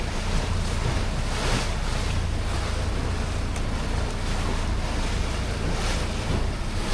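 Ocean waves and whitecaps rush around a cruising boat off the Connecticut shore near Plum Island, a loud, unbroken wash of surf and spray mixed with heavy wind buffeting.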